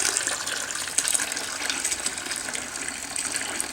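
Liquid gushes steadily from a tipped bucket, about a gallon at a time, filling a container; a continuous close, splashy pour with no voices.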